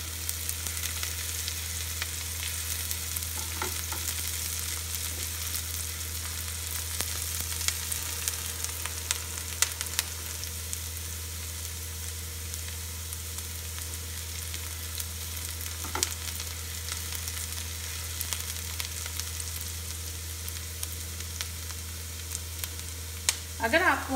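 Onion and ground tomato frying in a pan for dal, a steady close sizzle with a low constant hum beneath and occasional faint stirring clicks throughout.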